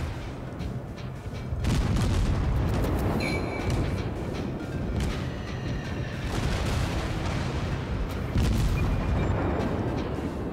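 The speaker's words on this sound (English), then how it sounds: "One more salvo, please, one more salvo." Naval artillery salvos in World of Warships, with the ship's guns heard as heavy booming blasts over a constant low roar, loud and close, one big volley early on and another later.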